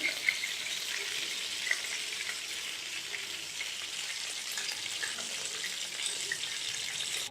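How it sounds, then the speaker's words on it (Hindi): Kebabs frying in a pan on a medium flame give a steady, fairly faint hiss of hot oil with small crackling pops, continuous throughout without voices. "कबाब फ्राई हो गए, इन्हें हम निकालते जाएंगे।"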